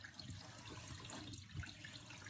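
Water gushing steadily out of an unbranded portable manual washing machine after its drain cap is released, a continuous close rushing flow with no talk.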